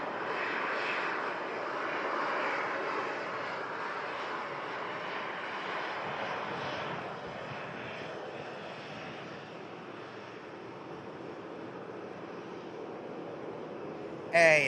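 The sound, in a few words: Turkish Airlines A321 jet on approach at Manchester Airport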